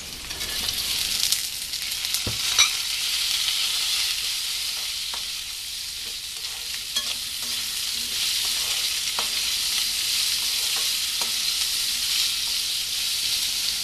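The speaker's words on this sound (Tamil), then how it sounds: "இந்த கத்திரிக்காயை வந்து லைட்டாக வதங்கணும்" Brinjal (eggplant) sautéing with onions in a pan for a tamarind brinjal curry: a continuous close sizzle broken by scattered clicks and scrapes of stirring, with no one talking.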